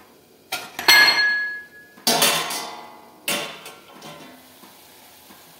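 A lid is set down on a pan of chopped cabbage cooking in gravy, giving a few close metallic clinks and clatters spread over a few seconds, with a ringing tone after the first knock and a faint sizzle underneath.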